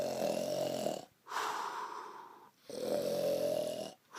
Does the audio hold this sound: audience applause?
no